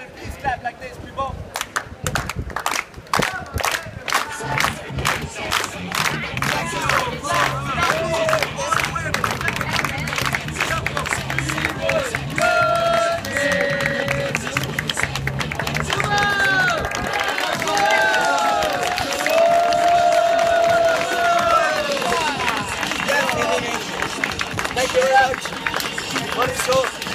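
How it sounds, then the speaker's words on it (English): A live show crowd in Copenhagen, Denmark claps together in a steady rhythm near the start, then breaks into loose cheering and chatter over music that keeps playing throughout. "Okay, now for the grand finale, please clap like this, people."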